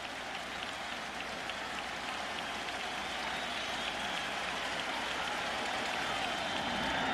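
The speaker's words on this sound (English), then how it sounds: "And this crowd hoping, pleading, begging Wakefield to get through a scoreless first." Steady crowd roar at Fenway Park during a 2003 ALCS Game 4 between the Yankees and Red Sox, a dense wash of thousands of fans that holds loud and constant throughout with no clear break.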